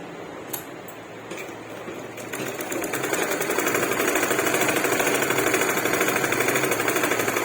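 A sewing machine stitches a corner with a rapid, even mechanical chatter that builds over the first few seconds and then holds at a steady, close, fairly loud pace.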